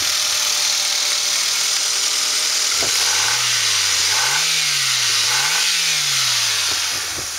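A Ford Focus 2.0 Zetec dual overhead cam engine with automatic transmission and 172,285 miles idles steadily, then revs up and down in several smooth swells before settling, alone and close.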